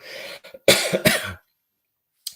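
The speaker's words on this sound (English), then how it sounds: "Still coughing." A person coughs a few times in quick succession, close and fairly loud, then falls silent.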